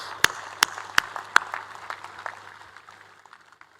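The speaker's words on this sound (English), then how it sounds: "Let us offer our warmest applause to all the proud families and parents gathered in the audience" At a university convocation, several loud, sharp claps ring out near the start, then lighter scattered applause trails off and fades.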